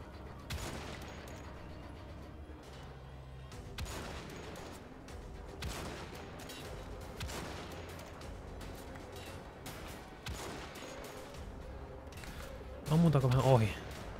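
Gunfire in the video game Wolfenstein: The Old Blood: a dense series of sharp shots and bursts running through the whole stretch, mixed with other game effects, with a louder burst near the end.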